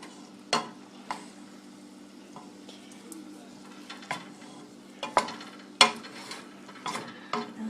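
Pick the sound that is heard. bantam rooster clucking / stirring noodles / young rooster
stirring noodles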